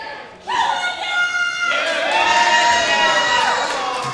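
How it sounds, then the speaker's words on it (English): Live crowd at a women's wrestling show cheering loudly, a dense roar of shouts and whoops that surges after a moment and stays sustained, with a commentator's voice faintly mixed in. "Crowd firmly on Izzy's side here"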